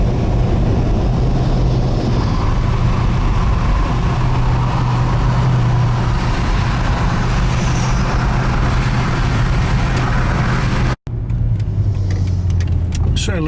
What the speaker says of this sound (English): A very reliable motor, this 113K engine